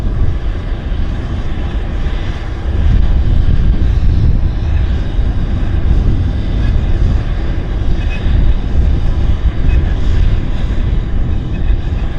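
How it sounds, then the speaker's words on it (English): A Cessna Citation corporate jet departs Vancouver Airport, its engines giving a broad, steady roar that swells after a few seconds and holds loud and continuous throughout. "There's a citation going out right now."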